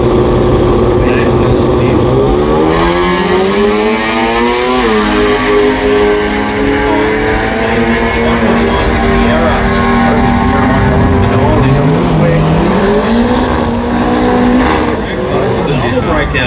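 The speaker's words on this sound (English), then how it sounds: "So Casey had great reaction time the last round of racing in the Sierra." Drag racing cars at the Garrett Brisbane Jamboree roar loudly as engines rise and fall in pitch through repeated gear changes, with a commentator talking over the engine noise.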